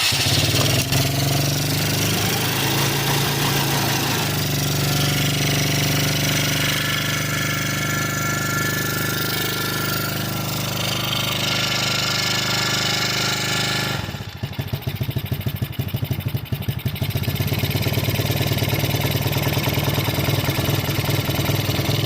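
A 110cc quad engine that sat outside for over two years runs loud and steady, its buzzing drone filling the whole stretch with a brief dip midway before picking back up.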